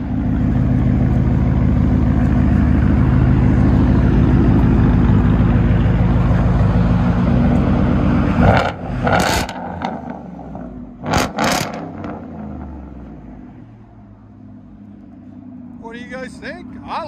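A 2018 Ford F-150 with a 5.0L V8 and Borla ATAK cat-back exhaust drones loudly and steadily for about eight seconds, then fades into several sharp short blips and a lower rumble.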